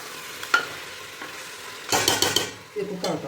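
A spoon stirs goat trotter paya kulambu in a pot, a few scraping, sizzling strokes that come in short bursts between quieter moments, close by and with no talk.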